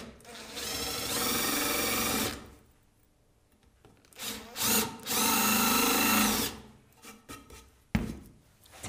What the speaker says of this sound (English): Then your drill bit won't wander. It goes exactly where you want.